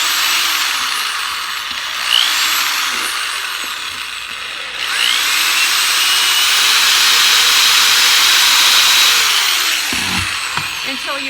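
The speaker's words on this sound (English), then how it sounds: "You might find it easier just to simply attach the drill bit." A power drill whirs to bore a small hole in a tin can, held close and loud, with a short pause and a change in pitch partway through.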